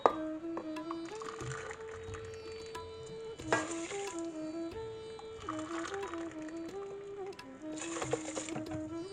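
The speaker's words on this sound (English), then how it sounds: "I'm adding 3 cups of water." Water poured into a pan of washed basmati rice in a home kitchen, several separate pours with gentle splashing and trickling, close and fairly quiet, no talking.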